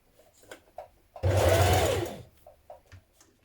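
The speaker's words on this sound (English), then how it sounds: "Pin it all the way around with as many pins as you need and then stitch it in place." A sewing machine runs in one steady burst of about a second, stitching a gathered dress waistband, close and loud, with quiet handling noises before and after.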